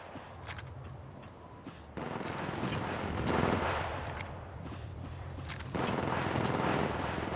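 Gunfire in the mobile battle royale game Apex Legends Mobile, dense rapid bursts of automatic shots in close succession with game effects, continuous throughout.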